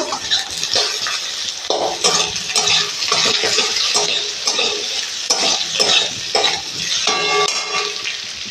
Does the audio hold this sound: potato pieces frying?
yes